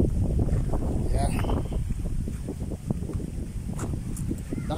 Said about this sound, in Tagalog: Lakas ng hangin guys, super.